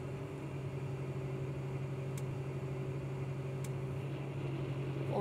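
An Early Riser 2150 planter raising its center section, a steady low mechanical hum of hydraulics and engine idle, with a couple of faint clicks and no change in pace.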